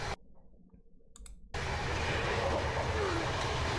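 After a brief quiet muffled stretch broken by a few clicks, the steady loud rumble of a moving passenger train's interior suddenly takes over and continues evenly to the end.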